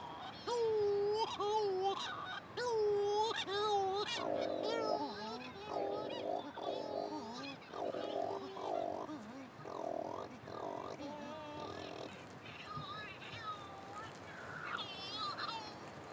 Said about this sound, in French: Les puffins cendrés, qui se lamentent tels des nourrissons, nichent la nuit sous les cahots rocheux